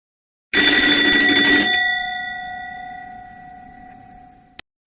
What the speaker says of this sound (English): That's an alarm clock.